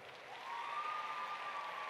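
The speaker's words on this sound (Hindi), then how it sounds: "जरा ताली बजा के स्वागत करो।" Audience at an official stage event in Indore claps to welcome ministers, a steady broadband wash of applause that swells after a quarter second and holds, with a faint tonal whine running through it.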